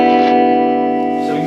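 A 1967 Gibson J-45 acoustic guitar played through a vintage DeArmond 210 soundhole pickup into a clean amp rings out one sustained chord that slowly fades.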